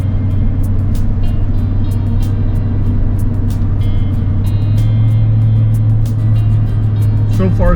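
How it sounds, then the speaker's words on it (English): A vehicle on Yokohama Geolandar tires driving over hard-packed snow and ice in two-wheel drive, a steady low engine drone and road rumble heard from inside the cabin, with faint ticking over it. "Now we're going to see how the Geolandars do in two-wheel drive in the snow and ice."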